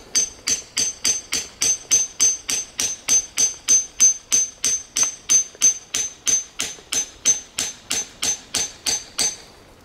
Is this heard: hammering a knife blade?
yes